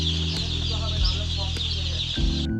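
Baby chicks on a poultry farm cheep with high, dense peeping over a constant low mechanical hum, close and steady throughout.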